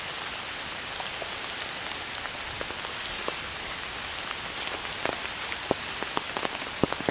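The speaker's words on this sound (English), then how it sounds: "Luckily we got rain." Rain falls steadily, with a soft constant hiss and scattered sharper drops pattering on a surface nearby.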